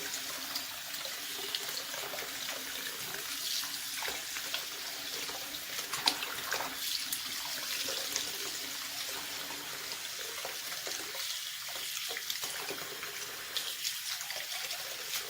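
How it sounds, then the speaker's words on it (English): Tap water runs steadily into a sink while soapy water is poured away and a small tablespoon is rinsed, a soft continuous hiss with faint splashes and clinks, no talking. "So I'm going to get rid of this soapy water. I'm going to rinse out my little tablespoon too."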